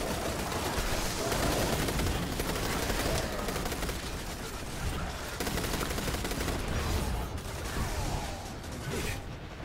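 Continuous heavy gunfire from weapons in the video game Destiny 2, Black Armory battle against war beasts, dense overlapping shots and mechanical clatter filling the whole stretch with no pauses, loud and close.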